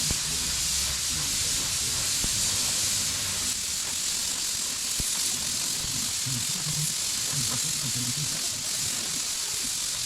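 A Harbor Freight HVLP spray gun lays down base coat paint on a small car part with a steady, continuous airy hiss that holds an even level throughout, while low rumbling and faint murmurs sit beneath it.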